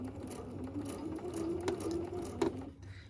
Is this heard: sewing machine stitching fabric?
yes